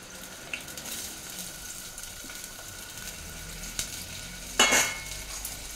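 Onions sizzle in hot oil for Udupi hotel-style tomato rice, a steady, even crackling fry with light stirring and one short clatter of a utensil near the end.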